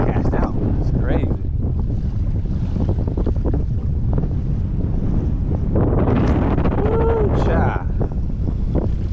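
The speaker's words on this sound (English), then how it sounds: "Yo, this wind getting to where I can't even cast out." Strong wind from Hurricane Nicole buffets the microphone on an open shoreline while a man fishes, a loud continuous roar with gusty surges throughout, and a voice briefly exclaims over it.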